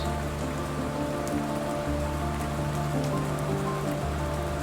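Steady rain pours down, a continuous even patter on surfaces with no pauses and no voices.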